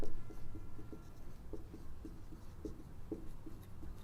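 A pen writes a line of code by hand on paper, with faint, close scratching strokes in a steady rhythm and small taps between words.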